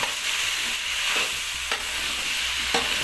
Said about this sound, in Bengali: আলুগুলিকে ভালোভাবে মিক্স করে একটু নেড়ে নিতে হবে